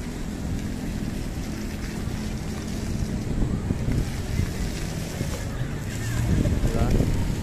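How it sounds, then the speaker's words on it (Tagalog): Wind blowing through an open park, a steady rushing roar that swells toward the end, with no clear talking. "Nakaka-relax ang hangin dito."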